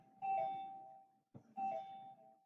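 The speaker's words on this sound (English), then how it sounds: "there's our lovely bell." An electronic bell chimes twice, each a clear ringing tone that fades slowly, with a short gap between strikes and quiet around them.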